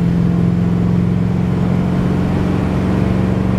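Inside a 1973 Ford Thunderbird, the V8 engine pulls strongly under acceleration with a steady, loud low rumble and droning hum, heard continuously from the cabin without talk.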